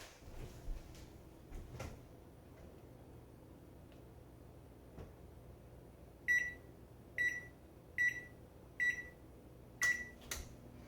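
A kitchen oven is switched on with a series of five sharp electronic beeps evenly spaced, then a final beep and a low hum as it starts, after some quiet handling noises.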